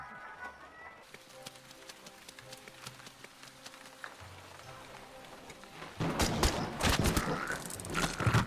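Gunfire in a rainy video game scene: a dense burst of loud cracking shots erupts near the end over steady hissing rain, after a stretch of quieter background sound and brief voice-like tones.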